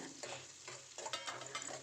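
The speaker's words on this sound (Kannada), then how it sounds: "ಒಂದು ನಾಲ್ಕರಿಂದ ಐದು ತೊಗೊಂಡಿದ್ದೀನಿ ಒಣಮೆಣ್ಸಿಕಾಯನ್ನ ನೋಡಿ ಇದನ್ನು ಸ್ವಲ್ಪ ಕಲರ್ ಚೇಂಜ್ ಆಗೋವರೆಗೂ ಫ್ರೈ ಮಾಡ್ಕೊಳ್ಳೋಣ" Four to five dried red chillies frying in hot oil for tempering, a soft crackling sizzle broken by brief scraping stirs, quiet and close.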